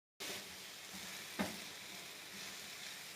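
Chopped apples fry with sugar in a pan, giving a steady, soft sizzle with a brief clink partway through, close and alone without any talk.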